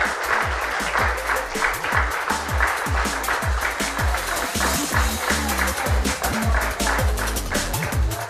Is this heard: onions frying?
no